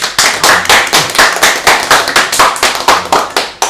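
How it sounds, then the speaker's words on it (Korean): A small group at a prayer meeting claps in a steady, rhythmic beat of about a dozen sharp claps, loud and close, with no talking. "서로 박수로 한번 격려할까요?"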